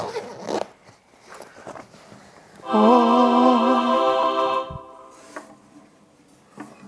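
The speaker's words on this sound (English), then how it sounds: "Let's zip that up." A zipper is pulled along a Martin acoustic guitar case in one long, close, rasping stroke, preceded and followed by soft handling noises.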